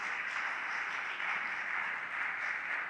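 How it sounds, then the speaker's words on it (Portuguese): A church congregation gives a round of applause, a dense, steady clapping that fills the hall from start to finish with no talking over it. "Salva de palmas."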